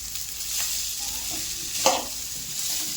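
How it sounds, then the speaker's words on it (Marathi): Leftover rice stir-fries in a pan, a steady close sizzle broken by a couple of spatula scrapes and one brief clack in the middle. "चांगलं त्याला परतून घ्यायचे"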